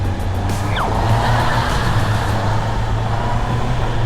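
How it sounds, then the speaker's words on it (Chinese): A used four-cylinder motorcycle riding through a tunnel at around 30 km/h, its engine a steady, close, enclosed roar with a low drone and no pauses, alone with no talk. "大家可以大概听一下在隧道里面的声浪。"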